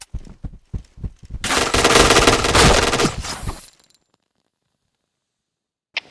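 Sustained automatic weapon fire in a video game, a loud continuous burst lasting about two seconds after a few scattered single shots, then sudden silence with one brief sharp sound near the end.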